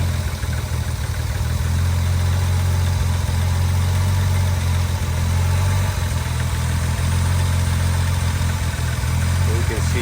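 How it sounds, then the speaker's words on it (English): A 1961 Jaguar E-Type Series I engine idles steadily, a loud, even low rumble with a smooth, healthy rhythm that holds for the whole stretch, with faint handling noises nearby. "you can see that the engine has a good healthy idle"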